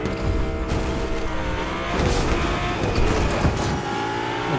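A car driven in the Fortnite video game, its engine revving steadily with rising and falling pitch and brief tire squeal, loud and continuous with a few sharp bursts near the end.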